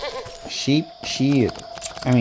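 A goat being sheared in the crafting game Wytchwood gives three short, wavering bleats, loud and close, over faint game ambience.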